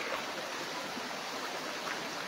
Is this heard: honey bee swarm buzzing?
no